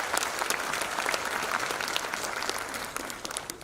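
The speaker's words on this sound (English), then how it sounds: "a big round of applause for the RPSL agencies" A seated audience at a seafarers' recruitment and welfare symposium in India claps in a dense, steady round of applause that fades slightly at the end.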